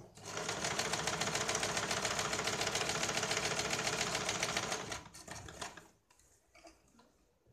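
A sewing machine runs a double seam on a single katori blouse, a loud, steady rapid needle clatter for about five seconds, then short stop-start bursts that fade into quiet handling.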